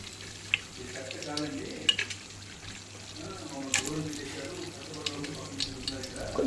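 Whole spices frying in hot oil for a spicy Andhra natu kodi biryani, a soft steady sizzle with occasional stirring clinks and scrapes, faint and close.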